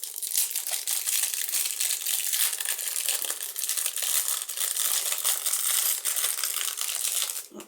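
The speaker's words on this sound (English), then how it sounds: "Lots of noisy unwrapping here." Crinkly plastic packaging around bronze and silver craft charms is unwrapped up close, giving a continuous, busy crackling and rustling that runs the whole length without a break.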